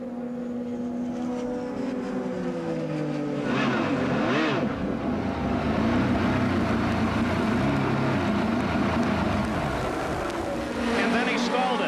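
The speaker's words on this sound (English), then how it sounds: "Listen very carefully to the engine" An Indy car engine during a pit stop at the 1995 Indianapolis 500, idling and revving loudly with a shifting, wavering pitch before it stalls, with commentators talking over it throughout.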